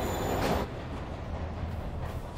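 A train rumbles in the Spider-Man video game, a steady low rolling drone with a faint high squeal and a brief louder swell early on, without speech.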